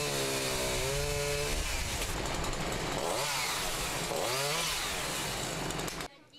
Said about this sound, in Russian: Екатерина Самсоновна услышала звук бензопилы и вышла на улицу посмотреть, что происходит.